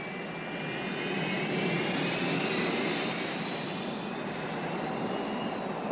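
Steady jet airliner cabin drone at a cruising altitude of 31,000 feet, a smooth broadband roar holding even throughout with no voices.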